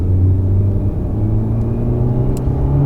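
A race car accelerates out of a corner on a circuit, its engine a loud, close droning rumble that holds steady with a shifting pitch, with no voices.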